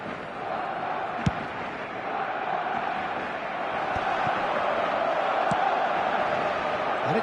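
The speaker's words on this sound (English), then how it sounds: "but it certainly got the crowd going." Simulated football stadium crowd in the eFootball video game, a steady roaring, cheering mass of voices that swells slightly toward the end, with a few faint thuds underneath.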